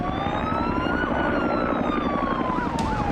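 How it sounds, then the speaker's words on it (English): Police car sirens near Bondi's Campbell Parade, several overlapping wails rising and falling over rumbling traffic, fairly close and continuous. "There's police cars pulling up"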